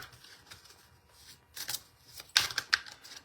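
Angel oracle cards being shuffled by hand, a soft papery riffle that builds into a few sharper, louder flicks and snaps near the end, close and with no talking.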